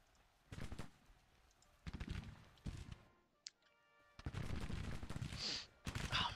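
Gunfire in a video game battle comes in several loud bursts of rapid shots separated by short pauses, with a sharp single crack in between and dense firing toward the end; no talking.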